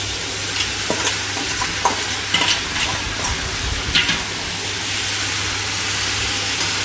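Drained boiled cabbage is stirred with spices in a hot pan, steady frying sizzle under scattered scraping and clinking of a spatula against the pan, close and continuous with no talking.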